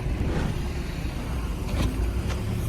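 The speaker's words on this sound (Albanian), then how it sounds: "c'è il nostro bus" A city bus pulls in to a street stop, a rumbling engine with traffic noise and brief brake or door sounds, close by.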